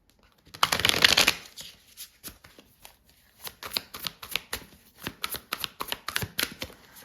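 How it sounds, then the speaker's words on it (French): Tarot cards are shuffled in a dense riffling burst, then laid out one by one with a string of crisp, close slaps and flicks at an uneven rhythm, with no talking. "on va poser les 3 cartes du tarot"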